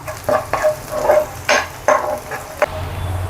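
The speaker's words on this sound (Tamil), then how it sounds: "இப்போ நல்லா வெங்காயத்தை நல்லா வதக்கி எடுத்துக்கலாம்" Onions sauté in a pan for a mutton curry, giving a loud, close sizzle broken by repeated scraping stirs that come at an uneven rhythm.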